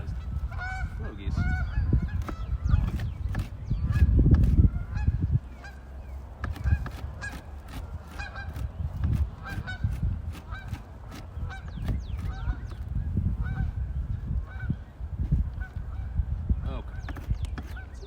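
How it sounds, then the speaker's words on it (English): Geese honk repeatedly nearby, loud clustered calls coming in irregular bursts over a low rumbling background, with occasional voice sounds mixed in. "Hello, geese."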